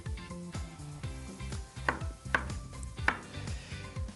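A knife chops through a firm, not overripe apple on a chopping board, cutting diagonal slices with several distinct close thuds spaced about half a second apart, with no talking.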